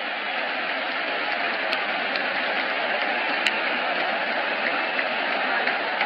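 A London crowd at a UFC fight between Anderson Silva and Michael Bisping lets out a big, sustained cheer and applause at the final bell, a dense steady roar with no break across the whole stretch.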